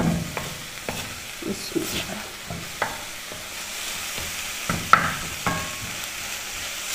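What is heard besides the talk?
mixing and cooking sauces in a pan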